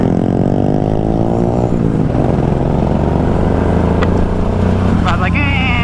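A motorcycle engine revs loudly inside an elevator, a harmonic-rich drone that climbs then settles, with brief higher whines near the end, as people talk over it.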